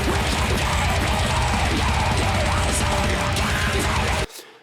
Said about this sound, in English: we do a little pterodactyl, again, a little nasally, pterodactyl-y kind of scream in there